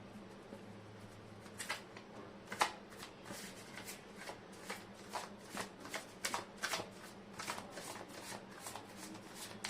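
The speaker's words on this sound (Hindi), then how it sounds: "कार्ड की शफलिंग" Tarot cards shuffled by hand, quick repeated riffling bursts and soft flicks in an irregular rhythm, close and quiet, with no talking.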